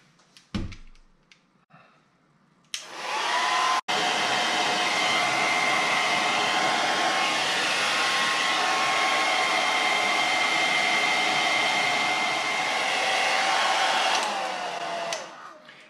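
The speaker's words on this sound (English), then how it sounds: "we're gonna go ahead and use a hairdryer" After a clunk and some handling noises, a hair dryer switches on and blows with a continuous loud whir for about twelve seconds, then shuts off, heating shrink tubing on a USB Lightning cable.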